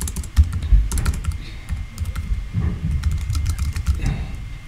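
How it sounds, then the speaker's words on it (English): Rapid, uneven keystrokes clatter on a computer keyboard, close up, in bursts with short pauses. "I'm having trouble typing here."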